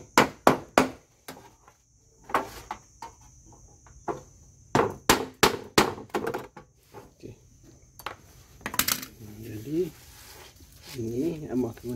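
Nails are hammered into wood while a recycled stingless bee trap is rebuilt: sharp close knocks come in quick clusters with pauses between, and someone talks intermittently over the work.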